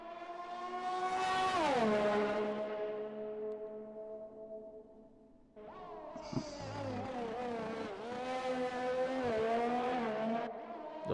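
A racing car in a Codemasters F1 video game powers out of turn 1 at Baku, its high-pitched engine winding down, then climbing hard again through upshifts, loud and close with no talk.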